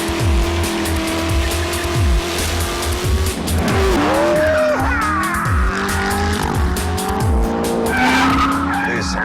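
Corvette ZR1 with a supercharged 6.2-litre engine roaring loudly as its tires skid and squeal, engine note rising and falling continuously with overlapping screeches throughout.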